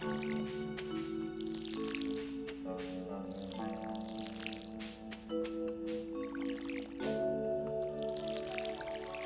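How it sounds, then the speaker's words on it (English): Crops being watered in the farming video game Stardew Valley: soft, repeated watery splash and drip sound effects from a watering can, sitting quietly under a layered, tonal background music track, with no talking. "Oh wait, let's water these."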